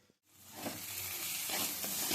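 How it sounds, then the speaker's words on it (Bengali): Spice masala being fried and stirred over a medium flame in a pan, a soft sizzle that rises gradually out of near silence and builds into a fuller hiss with light stirring scrapes. "গ্যাসের আঁচটা মাঝারি করে আমি মশলাটা কষে নিচ্ছি"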